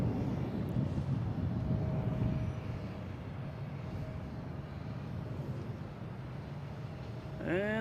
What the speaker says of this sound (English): We have the 757. Coming in from LAX.